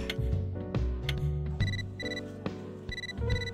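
A phone message alert chimes in Catherine, a bright repeated two-tone ringing pattern sounding several times over a busy game music and ambience bed.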